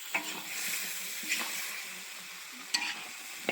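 Ingredients for sour soup fish and iron-pot goose hit a hot pan and fry with a soft steady sizzle, broken by a few light clacks of stirring, fairly quiet and without talk.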